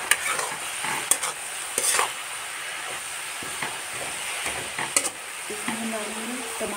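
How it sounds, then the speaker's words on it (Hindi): Spinach and peas frying in a pan are stirred steadily, with sharp scrapes and clinks of a spoon against the pan over a constant close sizzle; no one speaks. "और हम डालेंगे मटर, इसको अच्छे से मिक्स करेंगे।"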